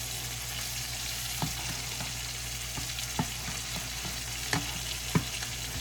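Mushrooms fry in olive oil in a pan with a steady, soft sizzle that runs throughout, broken by a few faint clicks and taps.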